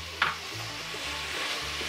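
Sliced onions with ginger and garlic paste sizzle in a pan for chicken biryani, a soft steady frying hiss with a small clink of a spoon stirring near the start.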